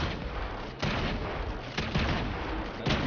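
Rapid bursts of gunfire from Fortnite, loud and close, with sharp shots repeating over a dense, continuous roar of battle noise.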